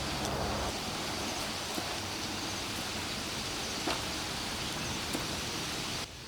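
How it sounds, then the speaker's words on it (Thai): Steady rain falling around a cabin in the forest, a dense even hiss with a few louder drops pattering nearby, continuous throughout before easing slightly at the end. "ฝนมันตกไปไหนไม่ได้เนาะ"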